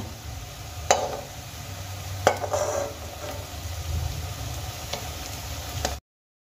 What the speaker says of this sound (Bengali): একইভাবে বাকি সবগুলো আমি ভেজে নেব